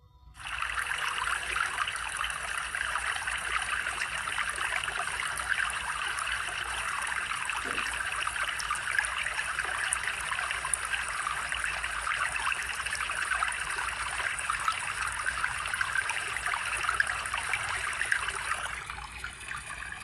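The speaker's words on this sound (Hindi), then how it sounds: "नदी नाले बहने लग गए।" Steady rushing of flowing water from rivers and streams swollen by rain, a continuous broadband wash that holds even and fairly loud throughout with no voices.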